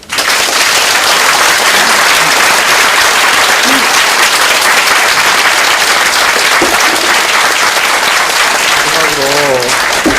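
A large crowd at a Korean talk show recording breaks into loud, sustained applause that fills the room steadily for about ten seconds, with a voice starting to speak faintly at the very end.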